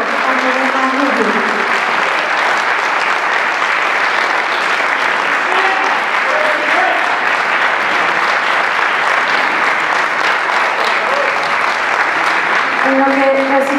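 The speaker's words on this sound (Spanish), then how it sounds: "Un aplauso, por favor, a Laura, a Lorena Núñez." A large crowd at a solidarity music event claps loudly and continuously for departing performers, a thick sustained roar of applause with cheering voices and whoops rising above it.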